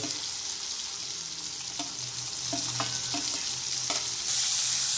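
Cluster beans (gavar) frying in oil in a kadhai, a steady close sizzle with several sharp clicks of stirring against the pan, growing louder toward the end.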